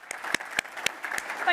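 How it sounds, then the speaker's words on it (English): Scattered applause from a ballroom audience at a business conference awards ceremony, a few distinct claps rising over a quiet murmur for about a second and a half. "may we have a big round of applause for all of our award winners"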